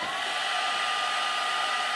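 A heat gun blows hot air onto a vinyl decal on a scale model tank, making a steady, loud whooshing roar that holds constant throughout with no talking.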